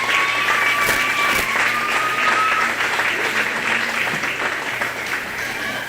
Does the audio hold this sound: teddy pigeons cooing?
no